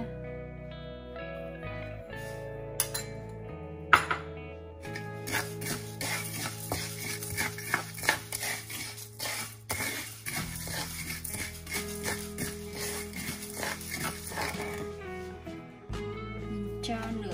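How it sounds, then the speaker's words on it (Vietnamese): Salt is stirred and roasted in a pan, making repeated scraping and gritty rattling sounds from a utensil against the pan, with tonal background music underneath throughout. "Sau khi mình rang vàng thì như vậy các bạn cho muối vô nha."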